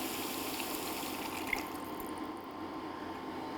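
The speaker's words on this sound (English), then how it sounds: "now we're gonna add the sauce to the pan" Keto General Tso sauce with garlic and xanthan gum poured into a cooking pan, a steady close splashing pour that runs for a few seconds, then eases slightly near the end, with no talking.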